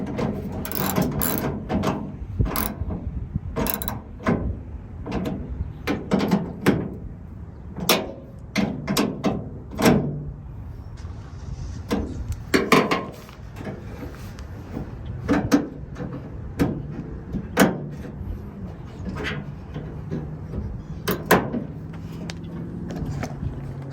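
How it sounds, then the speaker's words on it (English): Tightening two bolts and hooking up the connecting rods of a Bully tailgate lock on a Dodge Ram, heard as a string of close, sharp metallic clicks, ratcheting and small clanks, irregular and spread through the whole stretch, with no talking. "I'm gonna tighten them up and then connect the rods"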